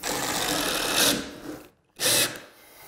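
A power drill driving screws into floorboards during a floor renovation, two close, loud whirring bursts separated by a brief pause.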